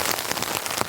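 Heavy rain pounds a tent on a camping trip, a dense close patter of drops with irregular sharper hits, continuous and loud with no voices.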